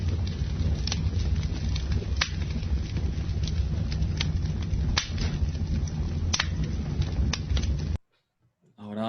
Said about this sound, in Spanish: Ahora vamos a escuchar el sonido del fuego, de la fogata.